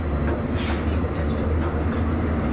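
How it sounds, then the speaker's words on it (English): Disneyland Monorail running, with a steady rumbling ride noise, a low hum and faint rattling throughout, heard from on board with no talk. "welcome aboard the Disneyland Monorail"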